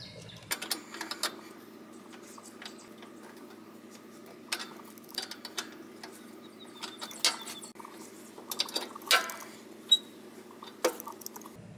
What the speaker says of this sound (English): Now I'm going to turn this lower nut clockwise to raise the left side of the deck.